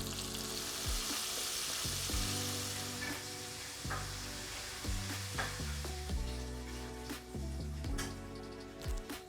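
Chicken wings deep-frying in oil at 350 degrees give a dense, steady bubbling sizzle, with occasional clicks and clinks over the hiss beneath a layer of tonal background music.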